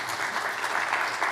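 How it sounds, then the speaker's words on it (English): Audience applause at a ProPublica reporters' panel event, a steady dense wash of many hands clapping throughout. "Yeah, applause."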